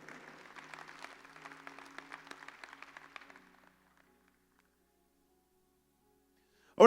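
A church congregation claps loudly and briskly for about three seconds, the applause thinning and fading to near silence before a sudden loud burst right at the end.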